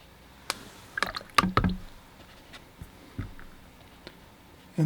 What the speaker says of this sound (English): And then we splash on a little bit of water